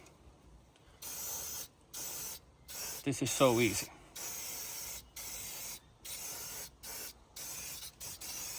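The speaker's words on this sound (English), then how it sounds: "So now I'm going to show what we can do with the Bräkleen. So let's see. Just spray," CRC Brakleen Pro brake cleaner sprays onto a motorcycle brake disc in a series of sharp, close hissing bursts of about a second each, with a short spoken remark in the middle.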